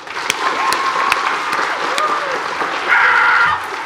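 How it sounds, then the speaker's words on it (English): Students at a high school Veterans Day assembly applaud the veterans, producing a sustained wash of clapping from a large room-filling crowd, with scattered voices and cheers mixed in. "give a round of applause for our veterans"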